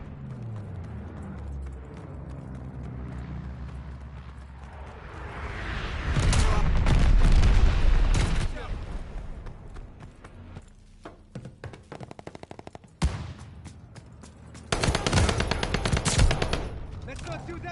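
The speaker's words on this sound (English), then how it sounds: "Teammate called a bombing run." A bombing run strikes in a Call of Duty Vanguard multiplayer match on PS4, with heavy explosions and bursts of rapid gunfire rising and falling, loud blasts around the middle and a second volley near the end.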